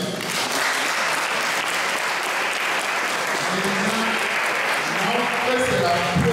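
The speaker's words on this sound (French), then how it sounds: "Est-ce qu'on peut encore les acclamer?" Sustained applause from a gala audience at a pan-African event's first edition, a dense steady clatter of many hands filling the room for several seconds, with a few voices mixed in near the end.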